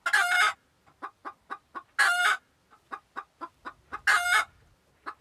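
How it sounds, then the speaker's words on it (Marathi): Chickens cluck in quick rhythmic bursts, with three louder drawn-out calls standing out among the shorter clucks, nearby and without talk. "मला एक कोंबडी दिसते समोर"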